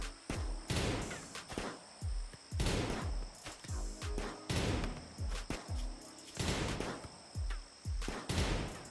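Repeated bursts of gunfire in the video game RimWorld, sharp cracks and booming shots in an irregular rhythm, loud and punchy with no talking.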